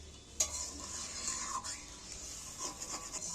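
Hot water goes into a pan of cooking masala for a large batch of fried rice, followed by faint scraping and stirring with a soft hiss. No one speaks.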